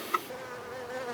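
Honeybees buzz around a hive entrance in late fall as foragers return for the night: a brief, steady, close buzzing hum with one small louder swell near the start and no voices.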